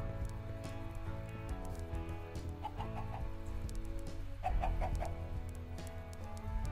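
Chickens cluck in Minecraft, a pair of blocky game birds giving short repeated clucks and soft bursts over a steady low game ambience, fairly clear and close.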